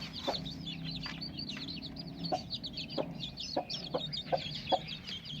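Hens and a chick cluck near a cage, several short clucks and peeps scattered over a low background rumble, fairly quiet.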